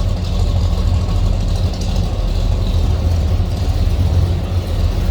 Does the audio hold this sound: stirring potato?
no